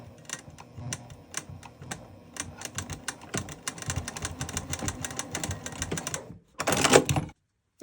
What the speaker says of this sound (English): you're gonna sew as close as you can to the D-ring so it doesn't spin